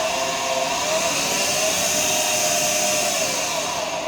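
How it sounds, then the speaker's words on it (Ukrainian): A homemade garlic peeling machine runs with an air blower at low speed, a loud, steady whooshing drone that is continuous and close, with no talk. "Погнало у нас повітря на очистку шелушіння і всього іншого."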